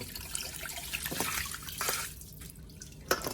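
Water splashes and trickles as it is tipped out of a bowl of soaking crabs, with a few drips and a brief splash near the end, close by.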